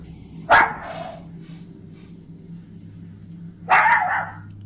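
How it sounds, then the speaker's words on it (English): A dog barks at the memorial of a pet that has died: two loud, sharp barks a few seconds apart over a steady low hum. "The dog begins to bark towards the memorial of their other pet"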